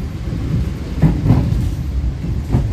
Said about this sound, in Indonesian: Nah, ini ada konvoi CC-06